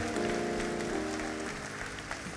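Congregation in a church service clapping hands together, a continuous dense patter of many hands filling the room over sustained music, with no pause.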